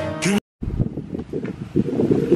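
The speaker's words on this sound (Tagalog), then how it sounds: "Nakikita nyo ba yung ganyang kalakas na hangin?" Strong, cold wind buffets the microphone at Tagaytay with a steady low roar and gusts, after a brief harmonic sound and a short dropout near the start.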